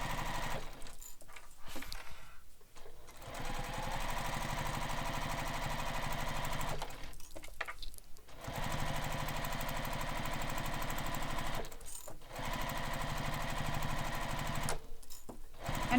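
A sewing machine stitching a bag strap runs in long steady bursts of rapid mechanical chatter, close and continuous, broken by a few brief pauses between runs.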